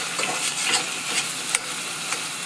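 Ground pork stir-fries in a pan for a Thai sweet and sour catfish dish, a steady close sizzle with a few sharper clicks of stirring on top.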